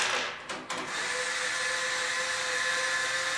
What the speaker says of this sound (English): I've got my electric screwdriver just because it's easier.